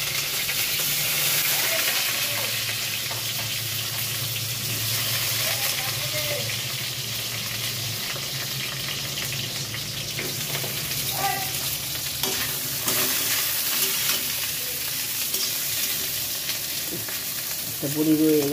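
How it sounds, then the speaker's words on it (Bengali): Eggplant and other vegetables fry in a pan at home, giving a steady close sizzle and hiss with occasional stirring scrapes throughout, no talking. "সবজিগুলো একটা করে ভেজে নেব। বেগুনগুলো ভাজবো"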